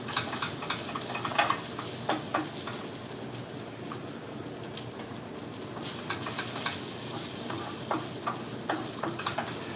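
Food sizzles in a hot pan with a steady close-up hiss, broken by scattered clicks and scrapes of stirring; faint bird calls sound in the background and nobody speaks.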